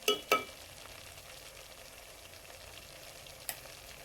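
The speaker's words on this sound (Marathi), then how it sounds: "मसाला भाजता भाजताच आपण सुके मसाले घालून घ्यायचे।" Masala and dry spices roast in a hot pan with a low, steady faint sizzle, broken by two sharp stirring clicks at the start and another near the end, and no voices.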